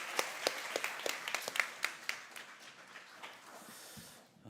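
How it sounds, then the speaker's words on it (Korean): A small church seminar gathering gives a round of applause after a closing prayer, scattered, fairly sparse claps at moderate volume that thin out and fade toward the end. "우리 영광의 박수 오늘 돌리겠습니다."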